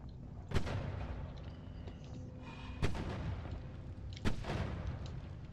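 A bomb-like spell in the pixel-art game Noita detonates three times, each a sharp booming blast with a rumbling tail, spaced a couple of seconds apart, over faint crackling debris.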